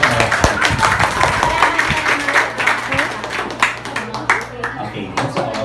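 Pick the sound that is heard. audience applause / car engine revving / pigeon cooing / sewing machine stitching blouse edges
audience applause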